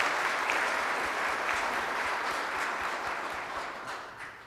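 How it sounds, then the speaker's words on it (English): A church audience gives a steady round of applause, dense and sustained clapping from a crowd that fades slightly toward the end, with no voices over it. "So if we give Vicki a nice round of applause for setting this up"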